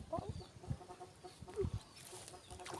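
Birds bathing outdoors cluck and call in short bursts, a few scattered chirps with soft background noise.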